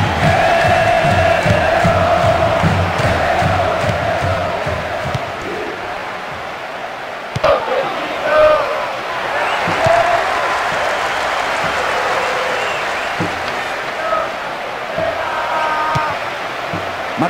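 A stadium crowd cheers and applauds in the Bomba Patch football video game on PS2, a loud, steady roar with swelling chants and whistles, joined by a commentator's voice partway through.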